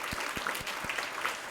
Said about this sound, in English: Let's give them a nice applause.